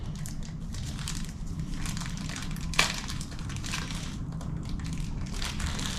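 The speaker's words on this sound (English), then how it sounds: "Plastic bags are not fun." A plastic bag crinkles and crumples up close in a workshop while parts are fitted on a custom John Deere XP TwinRow planter, with steady rustling, one sharp louder crackle midway and a low background hum underneath.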